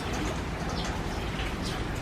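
Typhoon rain falling outdoors among fruit trees in the Philippines, a dense steady hiss of drops spattering on surfaces, close and continuous with faint bird calls.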